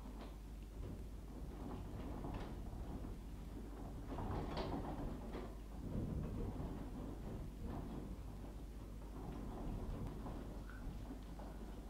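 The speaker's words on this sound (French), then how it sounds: "C'est décidément une tempête qu'il y a dehors." A storm rages outside: a low continuous rumble of rain and wind with rolling thunder swells, heard faint and muffled from indoors, no one speaking.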